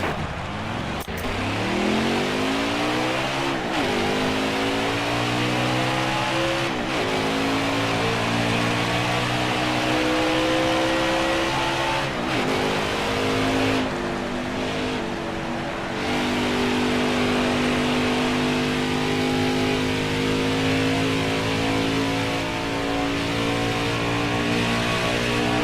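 Race car engine at an Indy qualifying run, revving hard and steadily through repeated gear changes, loud and close, with rising and falling pitch sweeps and no talk.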